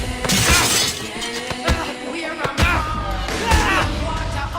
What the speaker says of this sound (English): Kick a dude, busting up this nice glass floor.